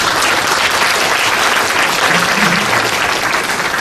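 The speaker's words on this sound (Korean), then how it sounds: "두 분께 큰 박수 부탁드리겠습니다" Loud, sustained audience applause for two guests, a social welfare professor and an association vice-president, at a Korean event: a thick, even roar of many hands clapping throughout, with no voices on top.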